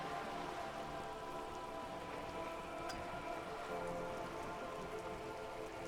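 Steady rain in the video game Disco Elysium patters and hisses continuously at an even, moderate level with no pauses and no voices.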